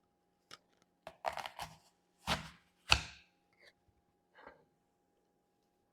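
Apples are cut and cored on a board in a short series of sharp knife chops and crunches, separated by silence.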